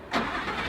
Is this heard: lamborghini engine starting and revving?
yes